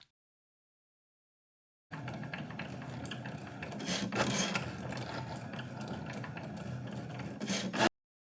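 A vinyl cutting machine slicing heat-transfer vinyl on a cutting mat at raised pressure, giving a steady close mechanical rasping and whirring with small ratcheting steps, running about six seconds between silences.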